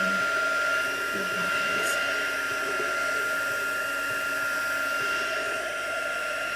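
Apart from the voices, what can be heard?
heat gun drying paint drips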